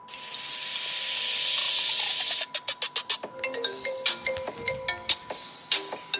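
A phone ringtone picked in a settings menu: a sustained bright electronic tone, then a run of sharp rhythmic clicking pulses and short melodic beeps, fairly quiet with no talking.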